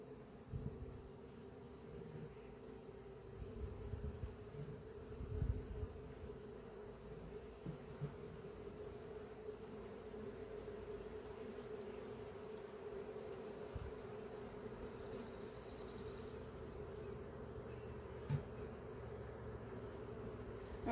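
Worker bees buzz steadily during a swarm's relocation into a permanent hive box, a low continuous drone close by, with occasional soft knocks and handling noises and no talk.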